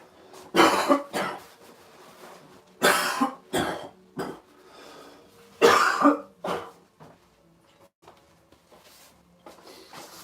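Several harsh coughs in short bursts with pauses between, close to the microphone, followed by softer throat clearing.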